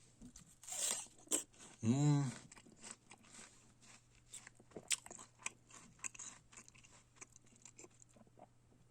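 A firm, juicy winter pear is bitten with a crisp crack, then chewed with close, wet crunching that fades into softer mastication, alongside a voice that hums and speaks briefly.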